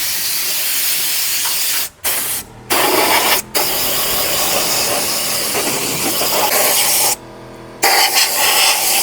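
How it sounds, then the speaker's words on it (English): Compressed air hisses loudly through the drum chute of a MechMaxx wood chipper during servicing, in several long, steady blasts broken by short pauses. "when I blow air through one side, it'll allow everything to get pushed out the other side"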